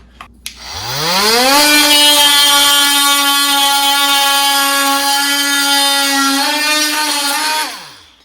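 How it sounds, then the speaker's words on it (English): A cordless oscillating multi-tool set to speed 6 spins up and cuts through a small piece of 1x2 wood. It makes a loud, steady, high buzzing whine for several seconds, then winds down and stops, with no talking. "I got just a small piece of little 1x2 here, so let's see how fast this goes through it."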